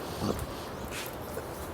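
Intact show and coursing dogs whimper faintly in the background at a home grill, giving a couple of brief, soft whines over a low, steady ambient hum.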